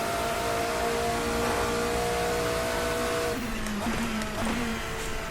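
A classic endurance race car in Assetto Corsa drones at high steady revs, then drops through gear shifts with short tonal steps, loud and continuous throughout.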